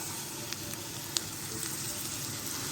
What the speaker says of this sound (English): So now we'll get on with the frying.